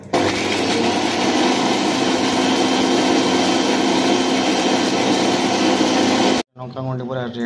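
Mixer grinder whirring as it grinds spices in a home kitchen, a loud, steady high-pitched motor whine that runs for several seconds and then stops abruptly, after which a voice speaks.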